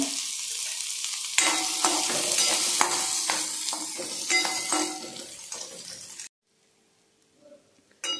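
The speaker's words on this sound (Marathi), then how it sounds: "आता मी याच्यातच 1 वाटी कांदा कापलेला मी फ्राय करून घेते लालसर रंगाचा" A bowl of chopped onion fries in a pan until reddish, giving a close, crackling sizzle with bursts of stirring for about five seconds before it drops to near silence.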